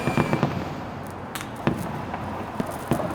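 Fireworks played back in a sound art installation meant to feel like a party: scattered sharp cracks and pops, some near and some farther off, with a crackling tail between bursts.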